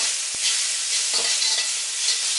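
Black beans, ginger and garlic cooking in a pan for shrimp with lobster sauce give a steady broadband sizzle, with one short sharp tap near the start and a brief stir scrape midway, close and fairly loud with no voices.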